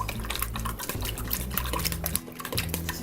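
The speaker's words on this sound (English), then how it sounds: "And I just kind of stir this around a little bit" Spoon stirring a cheese mixture in a bowl, producing repeated scraping and clinking against the bowl in an uneven rhythm, close and fairly loud, with no talk.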